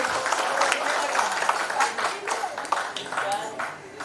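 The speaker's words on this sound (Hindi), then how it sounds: "एक बार जोरदार तालियां।" A meeting audience in Puri gives a loud round of applause, dense steady clapping filling the whole stretch with a few voices mixed in beneath.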